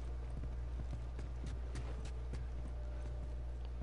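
Steady clip-clop of horse hooves at a walking pace in the video game The Last of Us, fairly faint, over a constant low hum with no talking.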